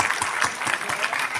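Enthusiastic applause from the audience at a national convention of the Dosar Vaishya community in Panvel, a brief, dense and lively burst of many hands clapping with crowd noise beneath.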